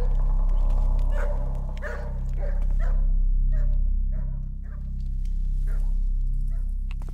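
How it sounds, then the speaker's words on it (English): Dogs bark repeatedly in the stealth video game Thief, a string of sharp barks over a loud, steady low drone of game ambience, with no talking. "I don't know, but the dogs aren't too happy about it."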